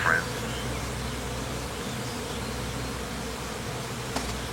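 Bees drone in a steady, low buzz at moderate distance, faint and continuous, with a short brighter buzz near the start and a brief tap near the end.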